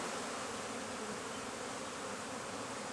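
Dense, steady buzzing of many honey bees swarming close by at a hive entrance in an apiary, a continuous droning hum with no pauses.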